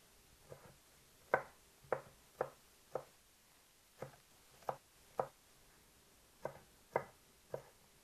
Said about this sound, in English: we're going to give these a fine chop just like we did the bell peppers